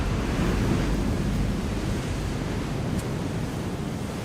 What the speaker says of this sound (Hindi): समुद्री लहरें इतनी ऊपर उठकर हमारी तरफ आ रही हैं।